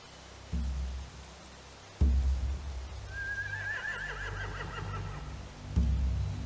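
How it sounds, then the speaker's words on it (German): A horse whinnies in a long wavering call at mid-distance, set against low rumbling thuds and a dull background, with sharp bumps at the start, middle and end. "Die haben Pferde."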